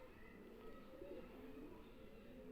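Kamghar pigeons, a migratory breed, coo softly and low in a repeated pattern over steady background hum.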